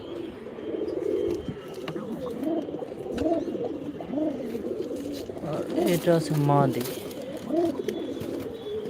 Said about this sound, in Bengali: কবুতরটা একদম নরের মতো ডাকে